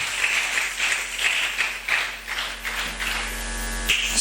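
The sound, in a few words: congregation applauding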